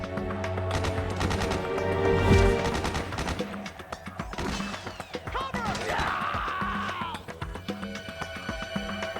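Gunfire in the video game Metal Gear Solid 4: Guns of the Patriots, with rapid, overlapping bursts of shots and clattering impacts sustained over nine seconds, set against a busy tonal backdrop.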